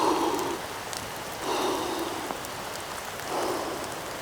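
Rain falling outdoors in wet weather, a steady close hiss of drops on surfaces that swells and eases in gentle waves, with no talk.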